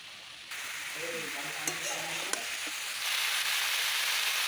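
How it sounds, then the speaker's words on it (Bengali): Red and green chillies sauté in a pan with a soft steady sizzle, a few light scrapes and taps from stirring, and a louder hiss near the end. "অনেকক্ষণ ধরে আমি কষিয়ে নিচ্ছি।"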